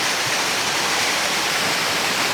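A waterfall on Vancouver Island roars as a dense, steady wash of rushing water, loud and close, with no voices over it.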